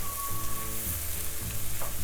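Washed fenugreek leaves sizzle in a pan for potato curry, making a close, even frying hiss that continues without a break and carries no speech.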